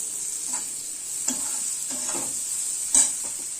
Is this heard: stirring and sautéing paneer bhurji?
yes